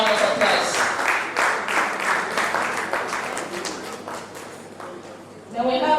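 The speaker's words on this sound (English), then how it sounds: "Please give them a round of applause." Crowd applause fills a school old students' association annual general meeting, steady dense clapping that runs for several seconds before a voice begins speaking at the end.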